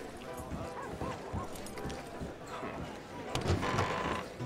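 Horse hooves clop in Red Dead Redemption 2, a few soft, spaced thuds set against a busy game soundscape near a saloon. Someone talks over them.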